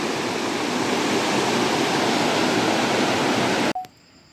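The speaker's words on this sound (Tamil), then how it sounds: "திடீர்னு தண்ணி கீழே போய் மறுபடியும் ஒரு ஃபால்ஸ் மாதிரி பெருசாக வருது" Steady, dense roar of rushing water, loud and continuous like a nearby waterfall, cutting off abruptly near the end into quiet.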